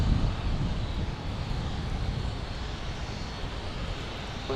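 Airbus A330 airliner engines rumble at Fort Lauderdale International Airport as a steady, broad roar that stays distant and unbroken.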